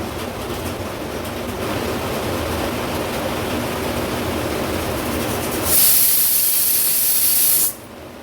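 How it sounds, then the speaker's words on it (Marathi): A pressure cooker cooking mutton builds steady hissing steam for several seconds, then breaks into a loud, high, sustained whistle before cutting off abruptly. "आता झाकण लावून घेते आणि जवळपास दहा ते बारा शिट्ट्या आपण काढून घेणार आहोत"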